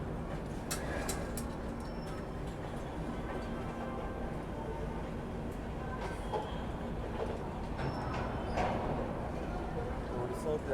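Interior of the moving New Delhi–Bhubaneswar Duronto Express, a continuous broadband rumble of the coach with scattered rattles and clicks throughout.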